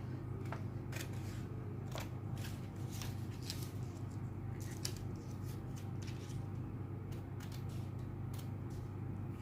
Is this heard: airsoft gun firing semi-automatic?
no